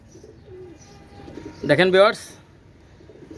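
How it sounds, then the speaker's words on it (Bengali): A pair of Pakistani Rampuri pigeons gives one short, close coo partway through, while someone speaks softly over low background noise. "এক জোড়া রামপুরি কবুতর, পাকিস্তানি রামপুরি কবুতর"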